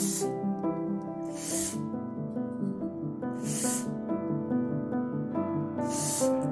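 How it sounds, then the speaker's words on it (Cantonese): Short hissing aerosol bursts of sensor cleaner sprayed around a car engine sensor, three evenly spaced puffs over steady background music. "用呢一支 sensor cleaner 向 sensor 周圍噴15次"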